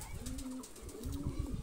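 Two close, drawn-out coos from ringed Bondhodom pigeons, male and female, sound over a soft noisy background.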